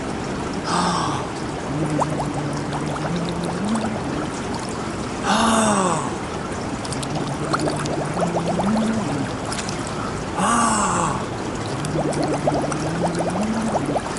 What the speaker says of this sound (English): I take 1 big breath when I go out and I blow my bubbles